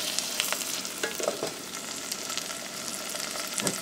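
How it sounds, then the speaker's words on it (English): Tomato paste is mixed into frying onions, a dense close sizzle with faint scraping stirs and a few soft clinks, continuous and without speech. "I'll mix it in with the onions."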